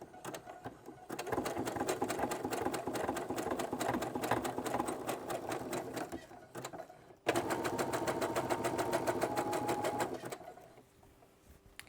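A sewing machine runs a zigzag stitch to attach elastic to panties, making two long, steady stretches of fast, even rattling with a brief pause between them.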